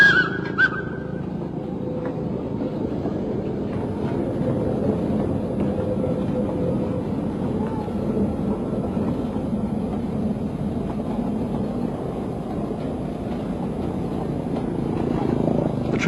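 A steam tram runs through Surabaya, giving a continuous low rumble and rolling clatter that holds steady for the whole stretch, with faint higher tones on top and no voices.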